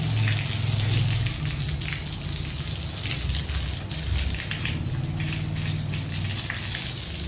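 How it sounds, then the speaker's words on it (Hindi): Water from a hose gushes steadily across the dirty paved floor of a backyard, a continuous close splashing and hissing with no voices. "चलो पानी इसी तरह लगाते हैं सारे सहन।"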